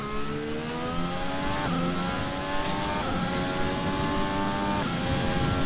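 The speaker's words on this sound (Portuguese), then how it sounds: "o seu carro vai sair automático dos boxes e vai ganhar velocidade" Formula 1 car in the F1 2020 racing game pulling out of the pit lane and accelerating, a loud continuous engine whine climbing in pitch through several gear shifts, close and steady with no talk.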